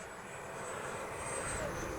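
FMS Rafale 80mm RC electric ducted-fan jet flying with a KM afterburner installed, a steady whooshing turbine roar at moderate distance with a faint whine sliding in pitch.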